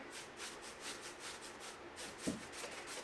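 A paintbrush rubs a first coat of paint along the side of a wooden desk being refinished, making soft, steady, rhythmic swishing strokes close by, with one brief louder knock near the end.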